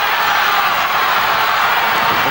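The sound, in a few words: wrestling crowd at Big Daddy match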